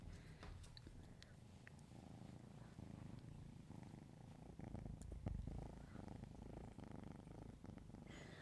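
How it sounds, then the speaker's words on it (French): A cat purrs softly and steadily up close in a quiet room, a continuous low rumbling with a faint breathy rhythm that swells slightly midway, with no talk over it. "Entendez-vous le ronronnement?"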